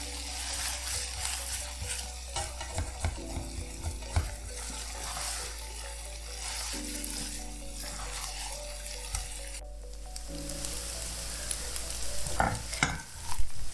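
Jeera chicken fries uncovered in a pan to dry out, a steady close sizzle with repeated spoon scrapes and stirring knocks running throughout and growing busier toward the end.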